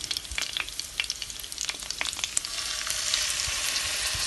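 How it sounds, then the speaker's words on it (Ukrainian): Steaks sizzle and crackle loudly in a hot pan, with dense popping spatter that builds to a steady, intense fry near the end. "коли сковорідка добре розігріта, буду викладати сюди стейки"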